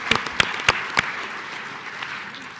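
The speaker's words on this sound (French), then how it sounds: "on peut l'applaudir." An audience at a talk applauds, with a few sharp nearby claps at the start and then a steady wash of clapping that fades slightly.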